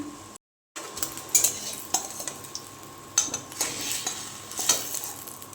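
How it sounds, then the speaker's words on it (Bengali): An egg fries in a pan for khichuri, with steady sizzling broken by several sharp clinks of a utensil against the pan and a brief silent gap near the start. "ডিমটা ভেজে নিচ্ছি"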